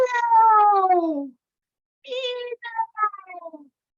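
A group of people imitate a cat with voiced meows: one long, loud falling meow, then after a pause several shorter overlapping meows, close and clear.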